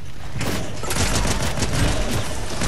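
Pistol gunfire in a Fortnite Creative WinterFest match, rapid overlapping shots and impacts forming a dense, loud, continuous burst of video-game gunfire with no pauses.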